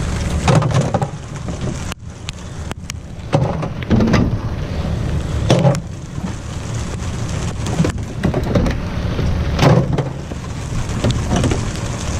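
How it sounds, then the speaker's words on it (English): Rain falls steadily outdoors during scrap collecting at a dumpster, a continuous loud hiss with scattered heavier patters and bumps throughout. "Oh geez, it's starting to rain."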